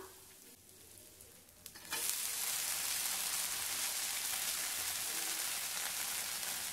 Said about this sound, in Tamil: எண்ணெய் ஊற்றி விட்டுறலாம் மீடியம் ஃப்ளேமில் ஒரு பக்கம் வெந்து வரட்டும்